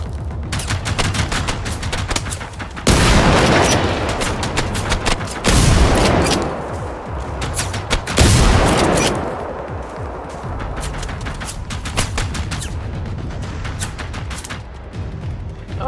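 Slug shot weapon firing in a video game, a sustained barrage of rapid, loud gunfire with a few heavier blasts standing out, continuing without pause throughout.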